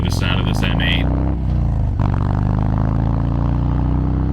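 A motorcycle engine labelled as an M8 runs loud and close throughout, a steady deep drone with brief shifts in pitch and some clattering mixed in.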